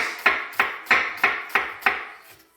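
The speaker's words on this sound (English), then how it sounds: "let me run my knife through these, get the ends off" A knife chops through ingredients for Peruvian-style ceviche on a cutting board, six crisp, evenly spaced strikes at close range, with a faint seventh as the rhythm stops, and no speech.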